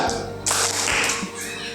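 A group in a classroom plays the tepuk nyamuk jerapah gajah clapping game, producing a few short bursts of claps amid chatter and room noise.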